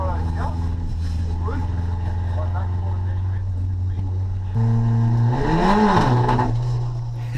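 Car engine droning steadily at high revs during drifting at a track day, then the pitch jumps and swoops up and down as the revs climb and fall, loud and close throughout, with someone talking over it.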